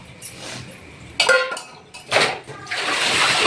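A large pile of pots and utensils is washed under running water in a home kitchen, with water splashing in bursts and metal dishes clinking and scraping nearby.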